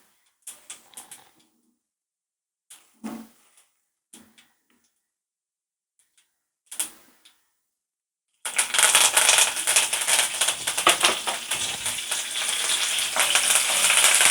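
A tempering of dal and curry leaves in oil for kara chutney starts with sparse, scattered pops and crackles, then suddenly breaks into a loud, continuous sizzle that lasts to the end, with no speech.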